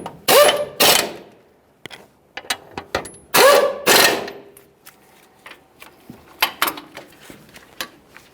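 Quick bursts of ratcheting clicks tightening upper control arm mounting bolts on a 2015-2020 Ford F-150, two longer runs early then shorter intermittent cranks, close and fairly loud with no talking.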